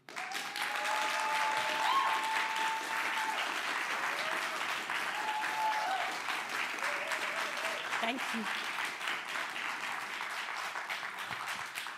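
Sustained audience applause fills a TEDx talk hall at Columbia College, South Carolina, steady and dense throughout, with a brief spoken thanks near the start riding over the clapping.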